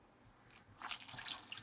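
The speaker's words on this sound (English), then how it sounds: "A little bit of water to cover." Water poured into a pot of Cuban oxtail stew with bouillon, salt and pepper, a steady splashing pour that builds after a brief start and continues alone, close by.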